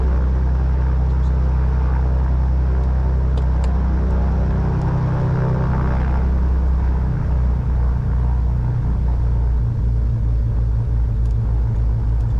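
Twin-engine Cessna 310 taxiing, a heavy low engine drone and rumble heard from inside, constant and loud throughout with a slight shift in tone midway and no voices.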